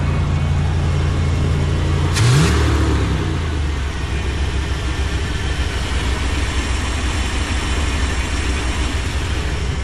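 A toy hauler's engine, running again after ten years and with its choke opening, rumbles steadily up close. Its pitch drops early on as the idle comes down, then holds a constant low drone.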